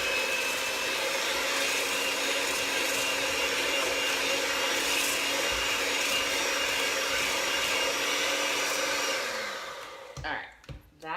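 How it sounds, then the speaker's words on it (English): Electric hand mixer with a whisk attachment beating eggs for keto bread, a continuous high whirring drone that runs steadily, then cuts off near the end with a few clatters. "we are going to take a hand mixer with the whisk attachment on it, and we're just going to whisk those all together"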